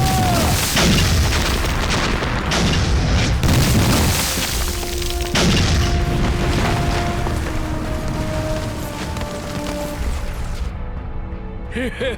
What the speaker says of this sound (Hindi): उन्हें बम से उड़ा दो।